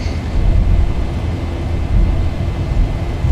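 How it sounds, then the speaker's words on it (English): Boeing 737-800 engines at takeoff power in the X-Plane 11 flight simulator, a loud, steady, broadband roar with deep rumble that holds throughout without pause. "Takeoff power is set."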